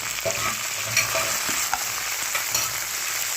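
Green chillies and onions hiss and sizzle in hot oil with browned urad and chana dal while being stirred in a pan for a spicy cauliflower-leaf chutney, a steady close sizzle with soft scraping strokes and no talking.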